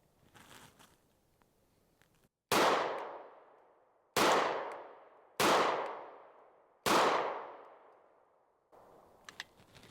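Four loud pistol shots from a CZ P09C Nocturne, evenly spaced at an outdoor range, each a sharp crack with a fading ring, followed by faint handling noises.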